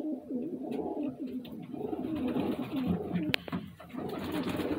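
Pigeons coo softly and continuously nearby, low throaty calls overlapping, with a brief sharp click partway through.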